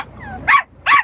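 A dog gives two sharp, loud barks close by, about half a second apart, after a soft whine at the start.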